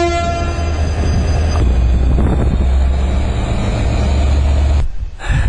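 The Sud Express train in Spain rumbles loudly and continuously, a dense near roar of wheels and carriage noise with no talking, dropping away abruptly near the end.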